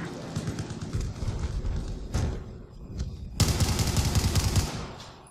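Gunfire in Battlefield 4, played in Small Conquest hardcore mode: dense rapid bursts and single shots crackle throughout, with a louder sharp volley erupting near the end over a rumbling battlefield background.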